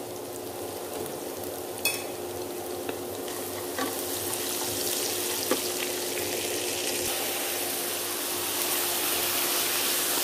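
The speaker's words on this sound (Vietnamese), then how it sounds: "Bây giờ mình bắt mỡ tỏi rồi mình xào rồi không nữa các bạn." Garlic sizzles in hot oil for a vegetarian beef hotpot, a steady, moderately loud frying hiss with a few small clicks and pops and no talking.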